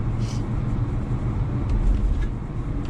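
A car driving across town at night, a steady low engine and road rumble from inside the cabin, constant and moderately loud with faint higher noise above.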